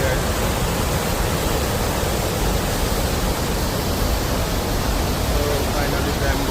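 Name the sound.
river flowing below, Langtang trek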